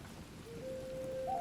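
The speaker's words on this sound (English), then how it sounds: "And hello, rain." Rain falling in the Hytale video game, a faint, steady patter and hiss of drops that gradually grows slightly louder, alongside a thin sustained tone.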